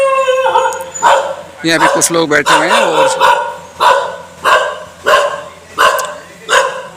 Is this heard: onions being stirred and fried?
no